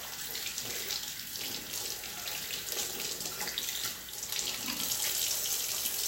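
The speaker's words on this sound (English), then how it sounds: "Make sure we get all the soap rinsed out." A kitchen faucet runs steadily into a sink, rinsing soap off the parts of an Omega J8007 juicer, a continuous close hiss of flowing water with no talk.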